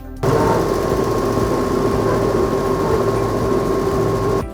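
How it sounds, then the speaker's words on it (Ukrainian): A loud, continuous mechanical rumble and clatter of a carpet dust-beating machine in a dry-cleaning workshop, its belts and beaters churning steadily without pause. "Першим ковтає килим у цеху пиловибивальний агрегат."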